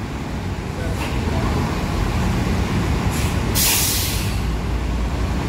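Sipirok Nauli bus engine idling as it warms up, a steady loud rumble heard up close, with short hissing air bursts near the end.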